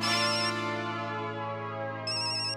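A phone rings with a steady electronic ringtone, a sustained bright melodic tone held loud and close before a higher-pitched note pattern begins.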